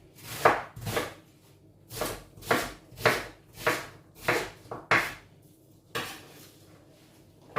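Knife chopping an onion on a cutting board while cooking a simple pork dish: about nine crisp, evenly spaced chops, close and clear, with short pauses between strokes and no talk.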